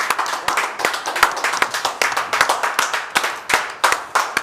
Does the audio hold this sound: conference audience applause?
yes